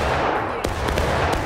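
Civil War-era musket fire in the game War of Rights, at the Burnside Bridge battle: a couple of sharp shots over a dense, continuous din of distant gunfire.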